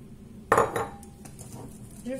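A utensil works flour into brookie batter in a bowl, a brief close clatter and scrape against the bowl, followed by quieter mixing sounds, faint and short.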